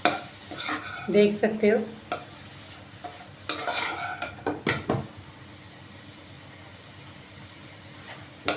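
Stuffed bitter gourds with masala and red chilli being stir-fried over high heat in a Sindhi-style preparation, with a busy cluster of scraping spoon strokes and clatters over a steady sizzle that settles toward the end; someone speaks briefly.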